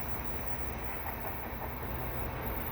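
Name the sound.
CN mixed freight train passing under bridge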